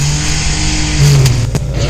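Mustang car engine in Half-Life 2, a loud steady droning rumble with rising revs near the end, close and continuous.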